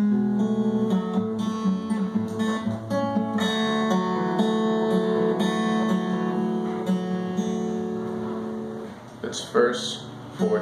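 Acoustic guitar fingerpicked in a repeating arpeggio pattern from a song, bright plucked notes ringing over each other at an even pace, close and clear with no talking.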